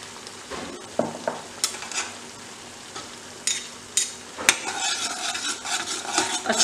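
Honey chilli potatoes get stirred in a pan with honey added, a spoon scraping and clinking against the metal in irregular strokes over a gentle, continuous sizzle.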